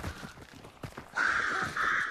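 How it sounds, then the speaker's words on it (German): Crows cawing in the multiplayer shooter Hunt: Showdown, a pair of sustained harsh calls in the second half rising over quieter game ambience and faint background sounds. "Krähen."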